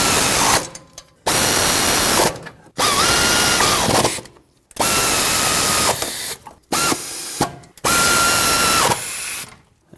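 A power ratchet tightens exhaust manifold nuts on a 2004-2009 Ford F-150 with the 5.4L 3-valve engine, firing in about five loud, buzzing bursts of one to two seconds each, separated by short silent gaps.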